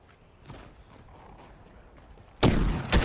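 Gunfire in Fortnite, where faint scattered game sounds give way to a loud close burst of shots near the end.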